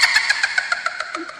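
A car engine running in a steady, rhythmic mechanical pulse with regular beats, moderately loud and close, with no talk over it.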